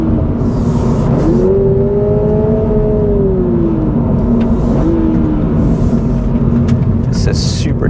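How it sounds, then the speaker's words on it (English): A 2022 Toyota GR86 engine revs hard while driving on a twisty road, the pitch climbing and falling through gear changes under a loud road and cabin drone, with a person talking over it. "The thing loves to rev. I do like the sound too."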